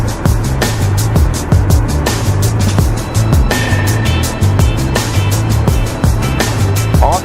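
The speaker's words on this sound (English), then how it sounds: "I'm moving the vehicle forward" A vehicle creeps forward during a low-speed driving maneuver on a marked course with cones, giving a steady close rumble broken by repeated rattling clicks and bumps throughout.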